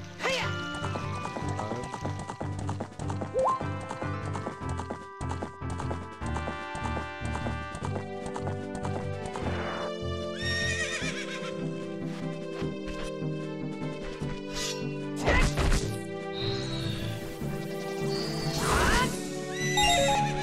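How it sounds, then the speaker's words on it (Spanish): A horse in The Legend of Zelda: Ocarina of Time whinnies repeatedly while its hooves clip-clop steadily over game music, with louder neighs near the end. "suelta el caballo"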